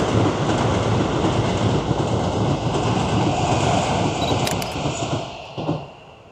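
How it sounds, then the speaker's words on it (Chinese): A red tram rolls past on a Tokyo street line behind a fence, a steady loud rumble of wheels and rail clatter that fills the clip, with a brief squeal near the end as it fades away. "这条线路经常有红色的电车"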